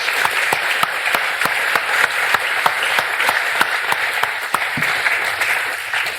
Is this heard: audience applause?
yes